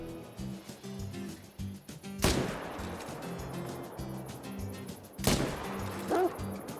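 Two sharp, loud rifle shots ring out a few seconds apart during a Cape buffalo hunt in a video game, each cracking and echoing over a low background of game music and ambience.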